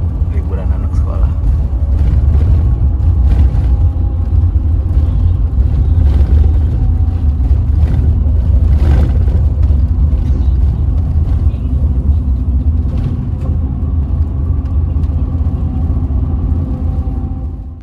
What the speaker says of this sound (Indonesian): Ini lalu lintas macet nih karena akhir ini ya, liburan anak sekolah.